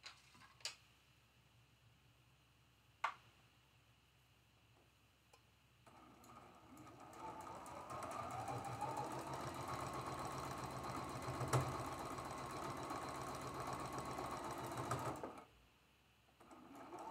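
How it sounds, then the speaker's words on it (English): A sewing machine runs steadily for about ten seconds, stitching a quarter-inch seam on a traditional Bear Tracks quilt block, with a couple of sharp clicks before it starts and quiet room tone after it stops. "we're going to sew right here with a 1/4 inch seam allowance"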